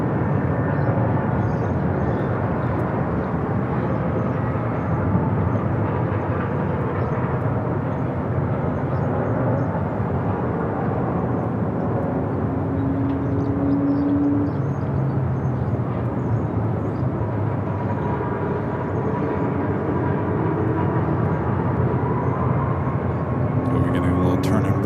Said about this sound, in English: The 767 heading to Atlanta.